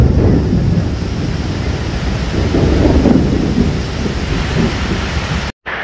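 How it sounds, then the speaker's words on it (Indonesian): Heavy rain pours in a dense roar with low rumbling thunder rolling underneath, loud and continuous before cutting off abruptly at the end. "hujan tambah deras"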